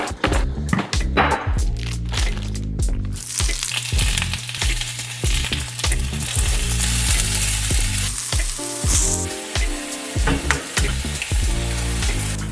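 Cottage cheese fries in a pan with a loud, steady sizzle close up, broken by scraping and stirring clatters from a utensil, with no voices over it.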